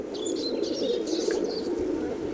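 Doves coo in a dense, continuous low warble, with parrots and other birds adding short bright chirps above; the flock is close and steady throughout.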